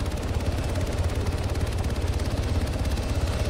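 A helicopter in ARMA 3 churns steadily with a fast, pulsing rotor beat and heavy low drone, loud and close, with no talk over it.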